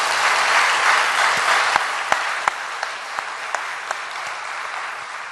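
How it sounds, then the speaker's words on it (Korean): A church congregation applauds during an early-morning revival service, loud sustained clapping with several sharper individual claps standing out near the end. "박수해드리죠."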